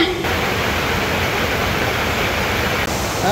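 Fountain in Hong Kong Park, its water pouring in a loud, steady, close wash with no other sound over it.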